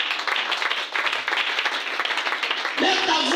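A church congregation applauds in praise, a steady dense clapping that runs throughout, with voices rising over it near the end.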